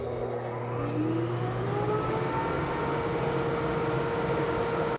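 A repaired Laguna dust collector motor spins up and keeps running, its hum rising in pitch at startup and then settling into a loud, steady drone close by.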